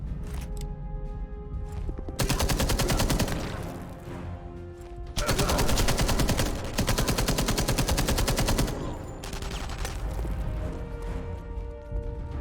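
A heavy machine gun rattles in long, rapid sustained bursts in the video game Enemy Front, loud and close, broken by short pauses between volleys.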